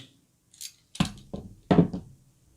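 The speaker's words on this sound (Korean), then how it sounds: "저는 렌툴로 자를 텐데" A LAN crimping tool snips through UTP network cable wires in several sharp, close clicks and crunches spaced across a couple of seconds, with silence between cuts.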